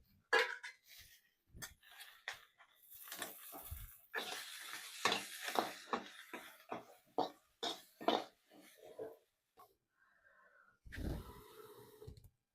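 Onions sizzle in a hot pan as a sambar is cooked, with close, uneven bursts of frying and spoon clatter coming and going through the pauses.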